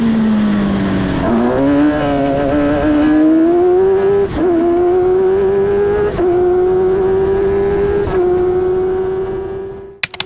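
An F1000 race car engine holds a loud, steady high-pitched drone on track, rising and shifting slightly with a few brief gear-change dips, then cuts off sharply at the end.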